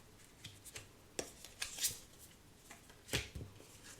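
A very large tarot deck being shuffled by hand, with soft irregular riffles, slaps and card clicks, faint and close, with no talk.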